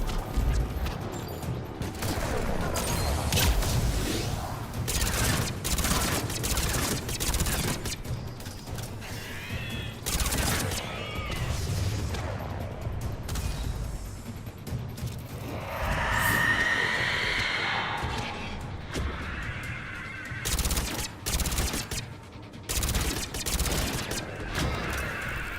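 Bursts of rapid gunfire from the video game Mass Effect 3 come in repeated sharp volleys among mechanical clanks and game effects, loud and close throughout.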